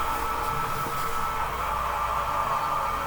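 A slowed-down whooshing sound of the video game monster Ambush, played 40% slower: a steady, dense rushing roar with a constant hum throughout, loud and unbroken for about three seconds, with no voices.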